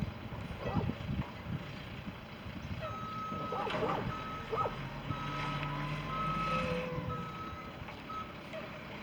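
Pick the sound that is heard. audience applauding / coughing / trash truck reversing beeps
trash truck reversing beeps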